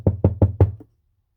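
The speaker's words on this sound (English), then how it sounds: "climbed on the porch, and knocked on the door." Four firm knocks on a door land in a steady rhythm, close and clear, before falling silent, used as a sound effect in a scary story.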